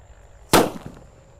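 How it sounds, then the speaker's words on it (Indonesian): A Colorful Thunder firecracker goes off outdoors in the evening, one sharp loud bang followed by a brief crackling tail, close by with no voices. "Selanjutnya yang kita nyalakan sore ini adalah Colorful Thunder."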